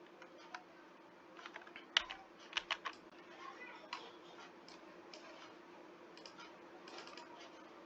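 Typing a formula on a computer keyboard, soft irregular key clicks with a few sharper taps clustered in the middle, close and faint over a steady low hum.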